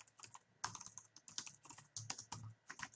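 Text being typed on a computer keyboard while setting up an email autoresponder, with quick, uneven bursts of close, crisp key clicks and short pauses between words.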